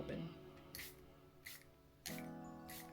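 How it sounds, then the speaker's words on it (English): Setting spray is misted onto a face in four short, sharp hissing bursts spaced about a second apart, close to the microphone, over a soft background tone. "the last products to wrap up my complexion are setting spray"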